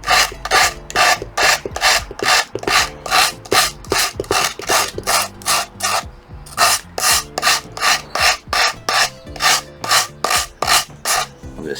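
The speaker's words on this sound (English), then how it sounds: "It actually doesn't take much sanding at all to get this flush." Rhythmic back-and-forth rasping of 120 grit sandpaper on the wood of a model ship kit, close and loud, with a brief pause midway before the steady strokes resume.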